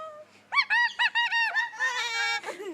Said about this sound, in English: The bird has Beth dancing.